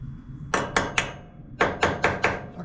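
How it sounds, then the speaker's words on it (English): Hammer blows on a chisel cutting a burr on aluminum during a riding mower valve cover repair, seven crisp metallic strikes in two quick groups of three and four. "If I could chisel a little burr on the end of it there, I can."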